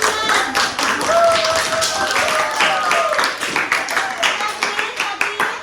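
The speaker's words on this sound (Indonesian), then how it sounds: "Tepuk tangan dulu buat kelompok 6." Students in a classroom biology lesson on the excretory system clap for a group that answered correctly, a dense patter of hands close by with a few voices calling out over it.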